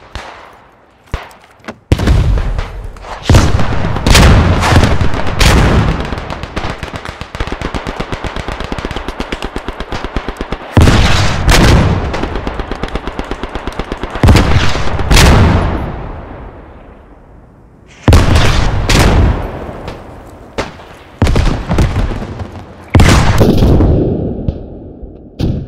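Grenade explosions and gunfire in Beyond The Wire, a First World War battle in the Argonne Forest: loud bursts of rapid firing and sharp blasts come in repeated clusters with short pauses between, close and intense throughout.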